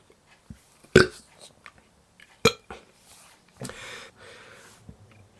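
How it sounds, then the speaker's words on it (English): Several burps come close and abrupt, two sharp loud ones followed by a longer rumbling one, separated by quiet gaps with no talking. "Fucking burps."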